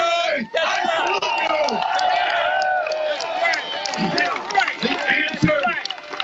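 A rally crowd cheering and whooping, a dense mix of shouts and yells from many people, loud and lively throughout, with a voice talking over the noise.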